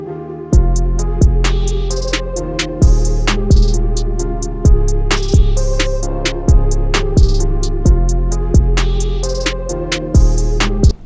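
A loud, dense song section plays with heavy, evenly spaced bass-and-drum hits about every half second over sustained synths and bright cymbal accents, with no one talking.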